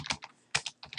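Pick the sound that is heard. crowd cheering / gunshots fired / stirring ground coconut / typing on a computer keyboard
typing on a computer keyboard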